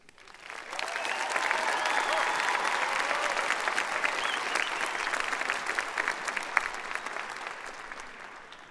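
A high school graduation crowd applauds, with clapping rising quickly, holding at a broad, steady level with scattered whoops, then easing off at the very end.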